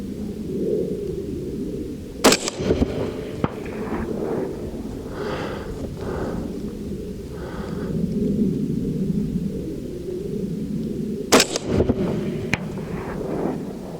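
Two sharp, loud cracks from a 24-inch AR-15 firing .223 rounds at a 300-yard target, spaced several seconds apart, over steady outdoor wind rumble.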